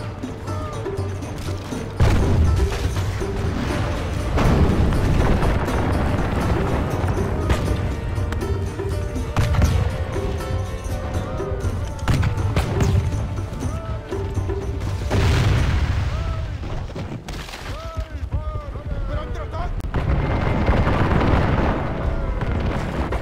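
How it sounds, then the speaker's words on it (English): Catapults fire during an online siege battle in Medieval II Total War, deep booming impacts and crashes over a dense roar of battle noise and music, loud and sustained, with a few louder thuds standing out. "Our catapults are about to open fire."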